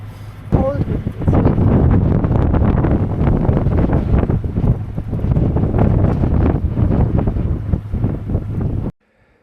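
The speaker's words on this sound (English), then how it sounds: "Cold wind." Cold wind blows hard across the microphone aboard a sailboat along the Lofoten coast in arctic spring snow squalls, giving a loud, steady, buffeting roar with gusty surges that cuts off abruptly at the end.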